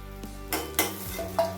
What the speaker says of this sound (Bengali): ভেজে নেব। একটা একটা করে দিয়ে দেব। সব তেলে দিয়ে দিয়েছি।